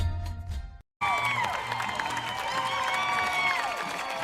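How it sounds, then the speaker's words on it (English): Football fans at a varsity game roar and cheer as the Panthers run onto the field, a broad, sustained crowd sound after a short cut, with whoops rising over the din. "You hear the fans cheering the Panthers coming onto the field."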